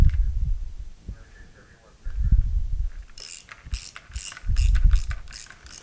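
Mechanical clattering of a Sidney manual lathe running in its rebuilt three-jaw chuck, with rhythmic metallic ticks and low rumbling thumps, close by.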